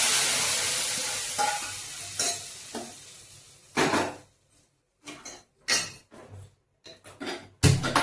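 Mustard-seed and spice tempering sizzles in hot oil in a pan for Telugu palakura pappu, a spinach and lentil dish. Crackling fades into bursts of spoon scraping and clinking against the pan, broken by quiet gaps.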